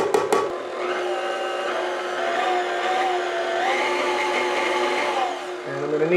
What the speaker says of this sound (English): Gonna get this on the mixer. Start that on a slow mix.